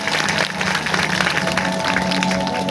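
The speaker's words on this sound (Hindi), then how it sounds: "इनके लिए भी ताली बजाएंगे जोरदार" An audience at a devotional gathering applauds loudly, a dense, steady wash of clapping that fills the whole stretch without a break.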